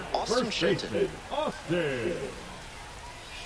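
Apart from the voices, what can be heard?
rain in MLB The Show video game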